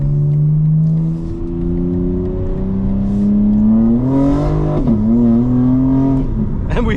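A 2025 BMW M4 Competition xDrive accelerates onto a highway, its engine droning loud and close from inside as the pitch climbs through the gears, with a brief dip at a shift.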